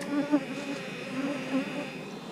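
Honey bees buzzing on a hive frame, a close, steady hum with wavering pitch from many bees, alone and fairly quiet.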